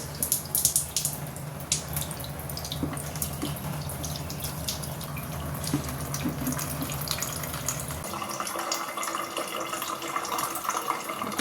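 Tap water runs steadily into a container in a home kitchen while tea is being made, a continuous rushing hiss that shifts in tone near the end as the vessel fills, with no talking.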